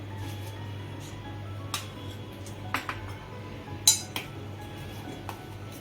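A spoon gives a handful of light, scattered metallic clinks against a cup or pot as sugar goes into fenugreek coffee, with one sharper chime near the end over a quiet background hum.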